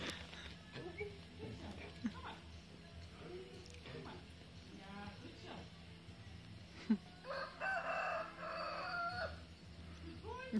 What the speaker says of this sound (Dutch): Met de kip op de achtergrond.